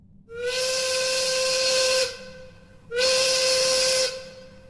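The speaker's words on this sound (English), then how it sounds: "Just then a ghostly whistle echoed around the valley." Steam engine whistle sounds twice in a valley, two long loud hissing blasts of about two seconds each with a short gap between, clear and alone.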